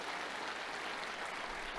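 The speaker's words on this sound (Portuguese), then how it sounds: "eu quero pedir uma salva de palmas" A congregation in a church service breaks into applause, a brief, distant wash of many hands clapping, faint and hissy, with no distinct voices above it.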